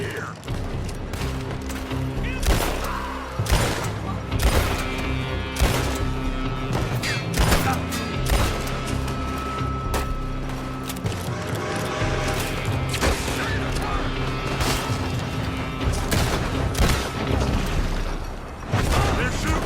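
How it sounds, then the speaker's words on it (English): Gunfire fills a Red Dead Redemption 2 shootout in dense, continuous volleys of loud shots and booms, with shooters firing from a building, while voices shout over the barrage. "They're shooting from that building."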